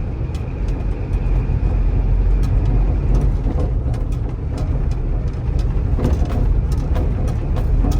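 The boss's car arrives with a steady, loud engine rumble and road noise that holds throughout, with faint clicks and rattles on top and nobody talking.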